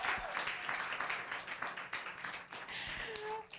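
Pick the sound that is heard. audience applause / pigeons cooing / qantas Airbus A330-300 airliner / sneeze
audience applause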